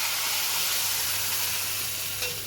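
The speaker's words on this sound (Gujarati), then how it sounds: "જો અત્યારે કઢી છે ને વઘારે છે," Kadhi being tempered in a home kitchen sizzles steadily and close for the whole stretch, a dense hissing fry with a soft stirring clink near the end and no talk.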